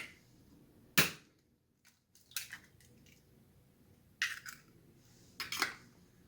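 Two large eggs are cracked into a small bowl: sharp shell taps and cracks come in separate bursts with quiet gaps between them, heard up close with no talking.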